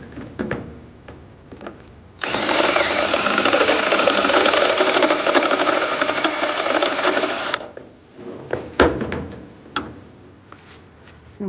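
A drill bores a round hole in metal in one sustained whine lasting about five seconds. Quiet clicks and handling knocks come before and after it.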